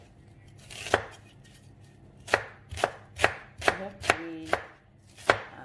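A large onion is chopped on a board with a knife: about eight crisp, separate chops at an uneven, unhurried pace, close and clear, with one brief spoken word.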